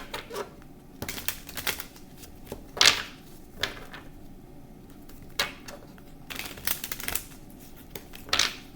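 Cards are shuffled by hand in short, irregular bursts of crisp flicks and slaps, close up against a quiet room, with no one talking.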